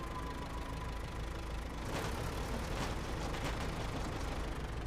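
A truck engine in SnowRunner, on the Maine map in hard mode, idles roughly and steadily throughout. It makes a dense, continuous rumble with no talk over it.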